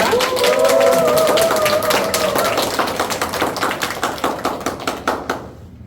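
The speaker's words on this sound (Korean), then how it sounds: "큰 박수로 환영해 주시면 감사하겠습니다" Audience clapping welcomes a lecturer to a digital-poetry talk at the 7th Hadong Arts Festival, a dense, steady patter of hands that gradually thins and fades out over about six seconds.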